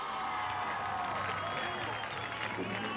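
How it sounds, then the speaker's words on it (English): Crowd applause and scattered cheering for barefoot water skiers at a show ski nationals, a distant, fairly faint wash of clapping with a low hum and a commentator's voice underneath. "Up and waving to well-deserved applause"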